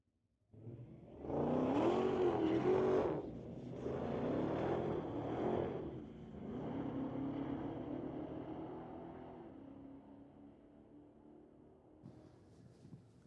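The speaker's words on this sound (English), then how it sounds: "We'll bring up Friday Night Street Legal regular Cam Penner in the race with Doug Charger." Drag cars, including a 2023 Dodge Demon, launching at a street-legal night at Mission Raceway Park: a loud roar of engines rising through the gears, then a long, fading drone as the cars pull away down the strip.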